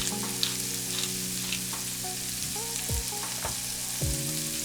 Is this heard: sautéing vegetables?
yes